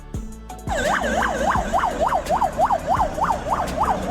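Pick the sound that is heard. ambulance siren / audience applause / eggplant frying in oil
ambulance siren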